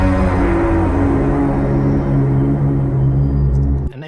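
Signature sound effect hit layered with a complementary tone for an animation sound design, a loud dense sustained texture with tonal bands that cuts off sharply near the end, no voices.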